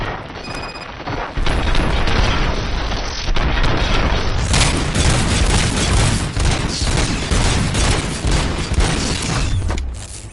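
Sustained heavy gunfire with booms and crashing impacts in RoboCop: Rogue City, a dense roaring barrage that starts after a second and rages almost without pause until it fades at the end.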